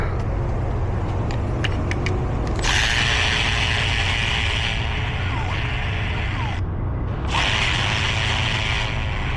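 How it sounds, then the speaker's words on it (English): A ratchet clicks in a quick, close burst while removing a bolt from the starter on a diesel engine, followed by a steady broadband hiss and mechanical rumble from the surroundings. "is just getting that one bolt out"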